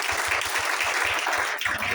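A church congregation claps together, steady dense applause filling the room for a couple of seconds without a break.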